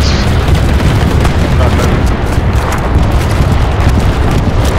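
Frag grenade blast in the WWII shooter Hell Let Loose, a loud continuous low rumble of battlefield explosions and gunfire filling the whole stretch, with no clear single detonation standing out.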